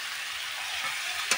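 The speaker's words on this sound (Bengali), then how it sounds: "এবার একটু এগুলো কষিয়ে নেবো মশলাগুলো।" Fried banana flower, potato and fish head cook in a pan with turmeric and spices, giving a continuous close sizzle with a brief stirring scrape at the end.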